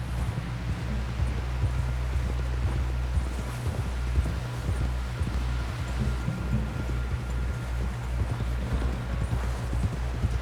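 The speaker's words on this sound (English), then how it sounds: "help John down off this horse" Steady clip-clop of horse hooves at a trot in Red Dead Redemption 2, loud and close, over a constant low rumble with no talking.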